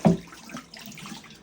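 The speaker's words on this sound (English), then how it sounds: "dump out the water" Water dumped from the removable condenser tray of a GE compact ventless dryer splashes out in one brief gush, then a faint trickle follows.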